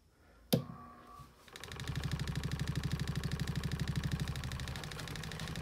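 A homemade paint shaker built from a brass tumbler starts after a sharp knock, then runs as a steady, rapidly pulsing mechanical rattle and hum close by, with no talking.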